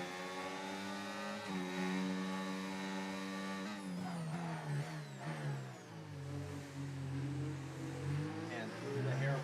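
Race car engines in a racing video game at Montreal, a car overtaking on track, with high engine whine shifting pitch through gear changes, running continuously beneath steady commentary.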